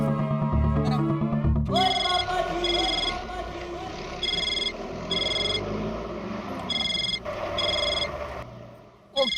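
A telephone rings in repeated short electronic trills with brief gaps, heard indoors under people talking.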